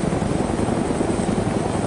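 A helicopter in the video game DayZ fills the scene with a loud, steady rotor thrum and whine that holds constant throughout.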